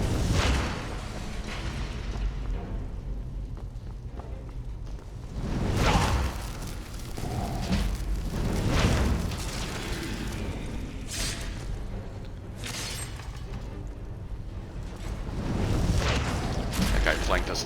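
Fire runes burst in a fantasy role-playing video game fight inside a dungeon, with repeated whooshing booms and rumbling blasts spaced through the stretch while game combat continues.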